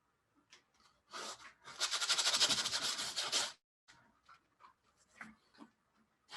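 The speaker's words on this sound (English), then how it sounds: "when you hear me scrub like that, it actually means I'm working too hard" A paint brush scrubs hard across canvas in a rasping burst of rapid back-and-forth strokes lasting about two seconds, followed by lighter, scattered dabs and scratches, all close and clear.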